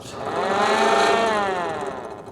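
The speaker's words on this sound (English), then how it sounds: "That's a siren." A 6-volt siren mounted on a 1942 Willys GPW military jeep winds up to a loud, steady wail and then sags back down over about two seconds, close by with no talking over it.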